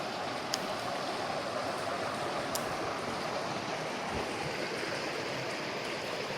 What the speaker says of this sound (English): That's the main channel, the stream coming down.